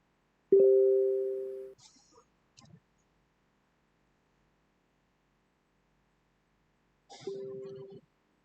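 A laptop plays a notification sound twice, a short bright electronic tone heard near and clear. The two chimes are several seconds apart, with brief faint noises in between and otherwise silence.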